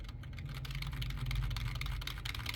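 Typing on an Eforttech full-size membrane keyboard, non-mechanical, producing a steady stream of soft, muted key presses with a low background hum throughout.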